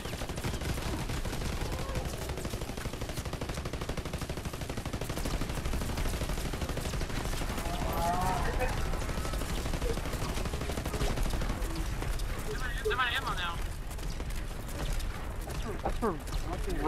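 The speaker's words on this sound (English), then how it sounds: "Now we have unlimited ammo. See, just keep shooting." Gunfire in the Call of Duty WWII video game, rapid continuous automatic shooting packed tightly throughout, with players talking over it.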